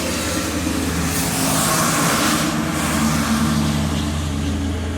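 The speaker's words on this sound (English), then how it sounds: "The morning trucks." Heavy trucks roll past on a road in the morning, a loud continuous engine rumble and tire roar swelling and holding close by, with no voices.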